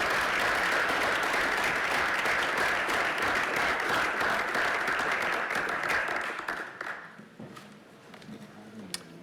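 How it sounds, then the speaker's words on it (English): A room full of people gives a panel a loud, sustained round of applause that holds for several seconds, then thins out and fades into scattered claps near the end. "Let's give Colleen, Danielle, Kevin, Dale, Vaughn,"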